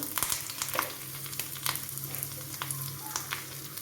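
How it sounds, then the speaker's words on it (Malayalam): Ginger and curry leaves fry in hot oil, a soft, steady sizzle with faint crackles and pops, quiet and continuous. "എണ്ണയ്ക്കകത്ത് ഇഞ്ചി ഇട്ടു കറിവേപ്പില ഇട്ടു"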